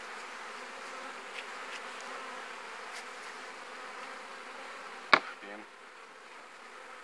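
Honey bees at a hive hum in a soft, steady buzz, with a single sharp knock near the end.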